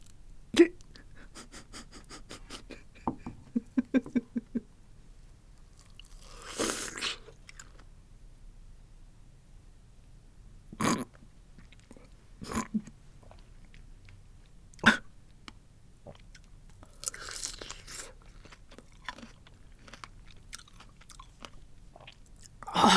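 Close-up mukbang eating of strawberry spread with Vegemite, soft wet chewing and a few sharp bite or mouth sounds spaced out over a quiet background, with no talking.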